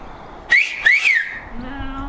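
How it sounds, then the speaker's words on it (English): A person tries a wolf whistle using fingers, giving three sharp shrill rising-falling whistle bursts in quick succession, loud and close, then a faint voice hums lower afterward. "I tried to wolf whistle."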